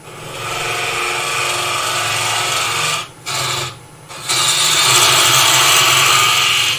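A continuous harsh scraping hiss of a gouge cutting spinning wood on a lathe, briefly pausing twice before resuming louder.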